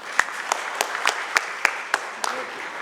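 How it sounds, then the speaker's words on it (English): Applause from a small audience at an AGM, a sparse, moderate patter of clapping with several distinct sharp claps standing out at irregular intervals over a few seconds. "A huge round of applause for that."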